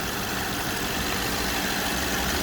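BMW 550xi F10 twin-turbo V8 idling with dual intake pipes and air filters, a steady, loud, continuous rumble heard close up without talk.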